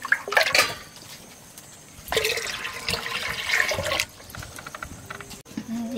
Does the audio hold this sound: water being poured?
yes